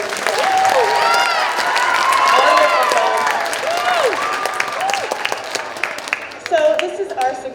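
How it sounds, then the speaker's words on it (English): Audience applause for a school band at a sixth grade winter concert, sustained clapping from a crowd with some cheering, loud and continuous before fading near the end. "One more round of applause for the band."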